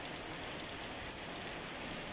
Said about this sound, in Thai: พาไปดูบรรยากาศตอนฝนตก